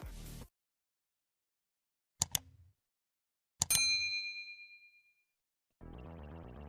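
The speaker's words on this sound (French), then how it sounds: "activer la cloche de notification" A notification bell dings twice, a quick double strike followed by a brighter chime that rings out and fades, set between short stretches of music.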